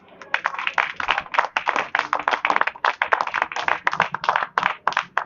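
A small audience claps for a speaker at an electricity-sector talk, the sparse hand claps sounding close and distinctly separate in an irregular patter.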